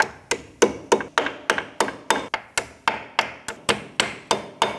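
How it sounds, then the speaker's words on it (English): A hammer taps brake pad pins into place on a 2009-2017 Audi Q5's front brakes, delivering about seventeen sharp, evenly spaced metallic knocks, close and steady, with no talking. "use a hammer so that we can gently tap them into place"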